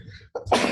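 A single short sneeze bursts out after a brief quiet pause, a sharp close explosive puff of breath following faint background sound.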